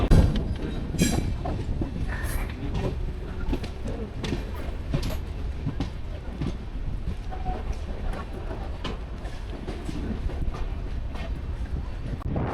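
A passenger train runs from Agra Cantt toward Kanpur, wheels rumbling and clattering steadily over the rails with wind buffeting the microphone. Voices are faintly heard inside the carriage.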